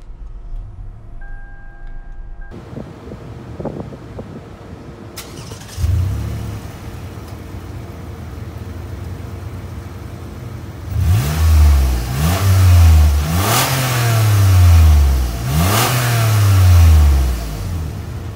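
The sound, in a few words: Lexus RX 350 SUV engine starting and revving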